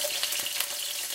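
Garlic sautéing in a hot pan for a healthy Filipino adobo, a close, steady hiss of sizzling oil that holds even throughout the brief moment, with no voices.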